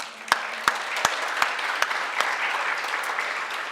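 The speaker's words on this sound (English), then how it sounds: "I think you should have a round of applause for that" A room of listeners at a midwifery oration gives a round of applause, sharp individual claps ringing out over a continuous, fairly distant patter of clapping.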